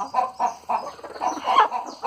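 A large hen, recently broody and found in the bush, gives a run of about eight close, short clucks in quick rhythm, fairly loud and alone.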